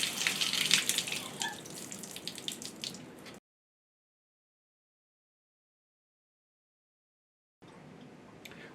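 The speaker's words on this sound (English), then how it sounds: "you open up the hot and cold supplies alternately for about 20 seconds each." Water runs from the hot and cold supplies through a faucet with a bright rushing spray, cuts off abruptly to silence, then resumes more quietly near the end.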